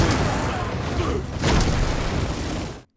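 A bomb explosion in an action heist film: a loud, dense roaring rumble that swells again midway, then cuts off abruptly to silence, with voices mixed into the blast.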